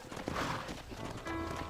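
In the Red Dead Redemption video game, horse hooves clip-clop steadily in a dense, continuous game soundscape, briefly and without talk.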